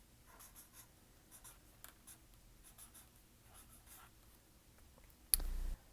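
Marker writing on a window pane, a series of short squeaky strokes in quick bursts, faint and close, followed by a brief louder scrape near the end.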